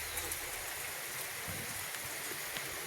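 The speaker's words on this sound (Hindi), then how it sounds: "बस बारिश ही बारिश।" Heavy monsoon rain in the Uttarakhand mountains, a dense, steady hiss of falling water with scattered close drips and splashes, heard alone without voices.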